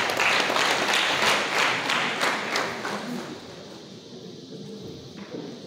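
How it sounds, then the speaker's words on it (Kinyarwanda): Audience applause at a Rwandan gathering, a dense wash of clapping that is strongest at the start and fades steadily toward the end. "ndagira ngo nsabe nawe baguha amashyi"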